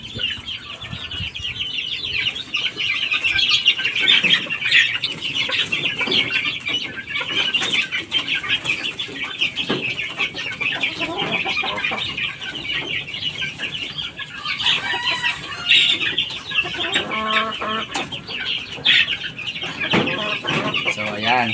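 Farm chickens and chicks clucking and peeping in a dense, continuous chorus, close and fairly loud, with occasional wing flaps and louder clucks standing out.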